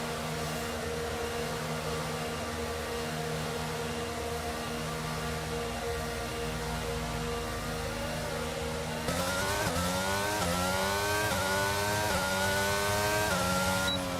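In F1 22, a Formula 1 car hums at a steady pit-lane speed limit, then its engine rises sharply in pitch through a run of quick upshifts as it leaves the pits, loud and continuous.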